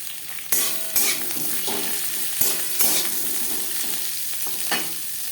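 Four onions frying in hot oil for butter chicken, a loud continuous sizzle close by, punctuated by several sharp clanks and scrapes of a spatula stirring against the pan.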